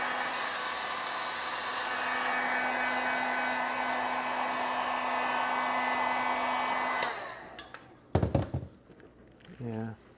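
A hair dryer blows a steady, whirring stream of air for about seven seconds onto a Fat Daddio Instant Pot pan to dry and warm its label adhesive, then cuts off, followed by a few knocks and a brief voice.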